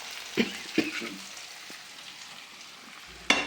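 Chili powder is tipped into hot oil while making a fish pickle, giving a soft sizzle broken by a few brief clatters and a sharper scrape at the end, with no voices.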